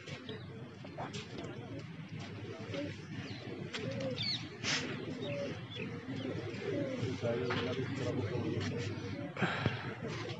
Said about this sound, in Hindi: सत्रह कबूतर